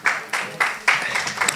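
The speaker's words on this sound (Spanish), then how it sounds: "renovamos el aplauso para ella" An audience applauds at a panel discussion on population ageing and human rights, a short run of clapping that swells in a few uneven surges, fairly close and full.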